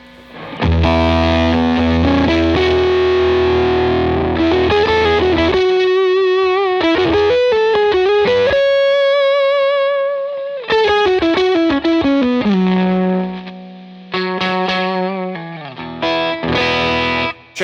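Distorted electric guitar through a Cornerstone Effects overdrive pedal, loud sustained notes and bends that cut off abruptly and sputter as the guitar volume is rolled down, leaving gated, choppy bursts near the end.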